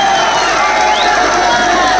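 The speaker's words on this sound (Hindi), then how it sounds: "अपने लिए एक बार जोरदार तालियां यार" A large stadium crowd at a fan event cheers and applauds in a loud, unbroken roar. Shouts rise above the mass of noise, and voices can be heard within it.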